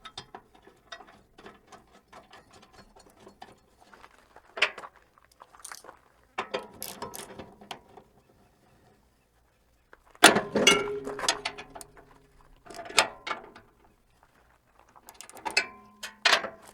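A ratchet tightens nuts on a Muratori MZ4 tractor tiller, giving several close bursts of rapid clicking separated by quiet pauses.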